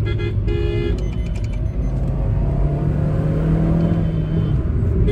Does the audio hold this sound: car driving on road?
yes